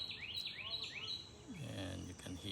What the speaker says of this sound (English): you can hear some birds singing, chirping